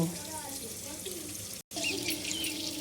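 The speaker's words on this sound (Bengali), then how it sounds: "পেঁয়াজটা এখন ভাজা হচ্ছে" Chopped onion fries in oil in a home kitchen, a steady soft sizzle with a brief dropout, faint and continuous, without talk.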